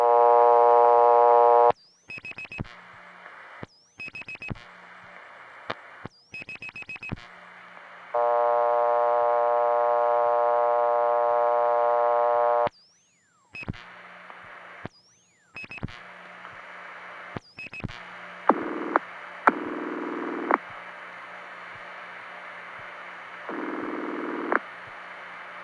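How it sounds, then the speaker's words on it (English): Tones on a 1976 PBX life insurance tie-line: a harmonic dial tone, then repeated short ringing bursts separated by clicks and gaps, loud and close on the line with no talking. "At first, I thought that was a double ring the PBX was giving, but actually it's some sort of an immediate ring feature"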